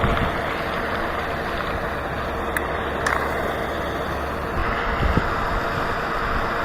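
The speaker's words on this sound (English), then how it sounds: "Look at the wind blowing at that fountain." Steady wind rushes and buffets the microphone beside a lake dock on a breezy fall day near a fountain, a continuous broadband roar with a couple of brief faint ticks and no speech.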